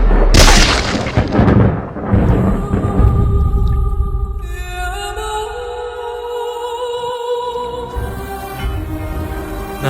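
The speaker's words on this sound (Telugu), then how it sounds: "ఆ దుండగులు నా తండ్రి వైపు తుపాకీ గురిపెట్టి ఆ దుర్మార్గులు నా తండ్రిని కాల్చి" Gunfire in a Christian short drama film scene, heavy booming shots and rumbling blasts at the start, then a sustained tonal musical score takes over and runs to the end.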